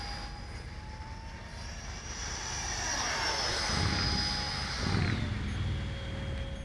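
An E-flite F-15 64mm electric ducted-fan RC jet flies past with a whining, rising-and-falling drone that swells as it draws nearer, heard outdoors at a moderate distance.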